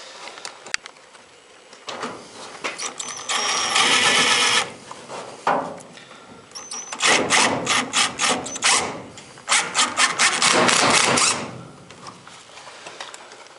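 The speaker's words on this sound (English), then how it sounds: "It's a self-tapping screw, so it drills through the metal without using a drill bit first." A power driver whines in bursts as a self-tapping screw bites and spins through furnace sheet metal, with a long grinding run, a pause, then several more rapid pulsing bursts.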